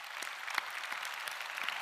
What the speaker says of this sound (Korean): 우리 주님께 박수합시다